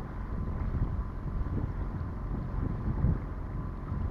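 A sailboat's motor drones steadily in a low, constant rumble while the boat passes through a gorge in the morning, with wind buffeting the microphone and no one speaking.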